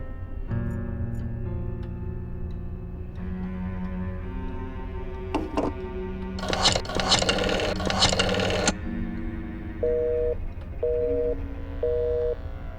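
A phone line gives a busy signal in a horror adventure game, pulsing tones heard after dialing and other clicks, close and clear with no talk.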